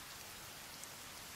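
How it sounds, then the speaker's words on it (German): Steady rain falls in the survival game The Forest, an even broadband hiss of drops on surfaces filling the whole moment with no voices. "Es regnet"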